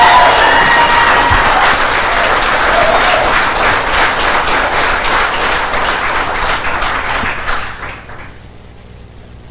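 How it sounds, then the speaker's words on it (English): Audience applause at a school Board of Education meeting in Saint Peter, Minnesota: dense, sustained clapping from a crowd in a meeting room that holds steady, then thins and fades out near the end. "maybe hold your applause until the end"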